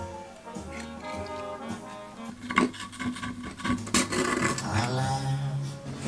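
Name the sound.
rubbing the corners of an old forge fan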